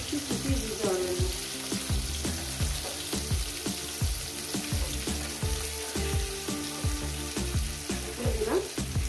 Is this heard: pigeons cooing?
no